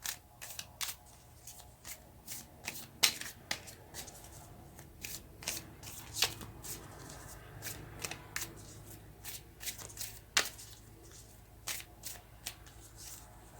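Tarot cards shuffled by hand in a steady run of crisp riffling and slapping bursts, close and fairly quiet, with no talking over them.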